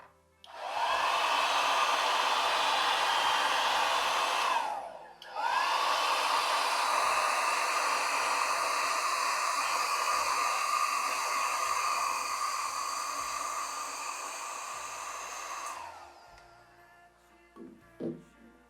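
A hair dryer drying a watercolor painting, blowing a loud continuous roar with a brief drop around five seconds, then running steadily before cutting off, followed by a few faint handling sounds.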